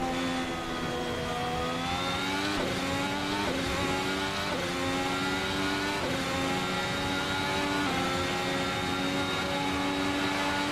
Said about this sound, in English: I love the little pops that you get on the upshift.